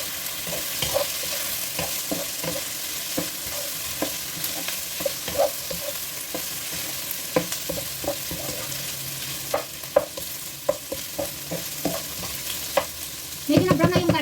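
Pork belly browning in a hot pan, a steady sizzle and frying crackle with repeated scraping stir strokes throughout, close and fairly loud, with a heavier clatter near the end.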